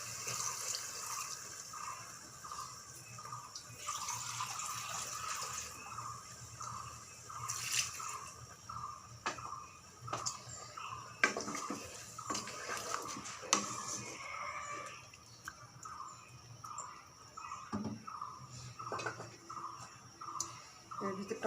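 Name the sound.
water poured into vegetable curry for gravy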